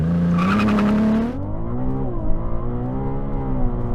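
A new Lamborghini Huracán supercar with over 800 horsepower launches from a standstill in a 0 to 60 mph run. A loud engine roar rises in pitch, cuts at a gear change, then keeps pulling with a deep, steady drone.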